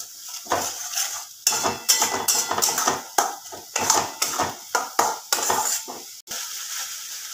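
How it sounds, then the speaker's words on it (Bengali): Masala spice mix for keema curry stirred and sautéed in a pan over a raised gas flame, a ladle scraping and clanking against the metal in quick, uneven strokes with a faint sizzle beneath. "এবার আমি মশলাটাকে খুব ভালোভাবে কষাবো"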